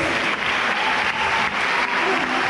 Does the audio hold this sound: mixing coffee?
no